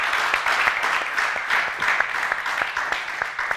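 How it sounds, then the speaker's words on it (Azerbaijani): A studio audience on a television talk show applauds with brisk, rhythmic clapping that holds steady and loud throughout. "Gözəl alqışlar gəlsiniz."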